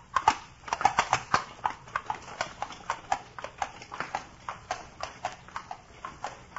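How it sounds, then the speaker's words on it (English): Horses pull a carriage in an old-time radio drama, their hooves clip-clopping in a steady, even rhythm of sharp knocks, fairly close and continuing alone throughout. "Perhaps when you have gentle horses."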